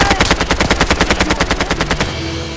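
Rapid automatic gunfire in a Lara Croft video game rattles off in a fast, even burst of loud, close shots, then stops abruptly with a faint tail.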